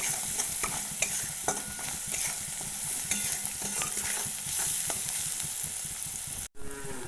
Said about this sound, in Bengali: কাশ্মীরি লঙ্কা গুঁড়ো, হলুদ গুঁড়ো, লবণ সব কিছু একসঙ্গে দিয়ে মিশিয়ে নেব।